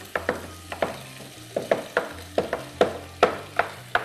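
Potatoes and onions fry in a hot pot, a continuous sizzle broken by repeated sharp knocks and scrapes of stirring at an irregular rhythm, close and fairly loud, with no talking.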